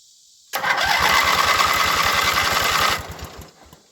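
A Montgomery Ward lawn tractor engine cranks over with a steady, rapid rhythmic chugging for about two and a half seconds, loud and close, then winds down as the starter stops.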